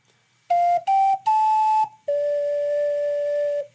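An ocarina plays the next line of the Song of Time as four clear, sustained tones, three short ones and then a long held note, loud and alone with no talk.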